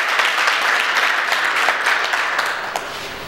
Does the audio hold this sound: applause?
yes